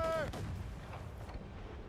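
Ship cannons boom in an Assassin's Creed Rogue Remastered naval battle, one deep low blast rolling out under a brief raised voice, fairly quiet overall.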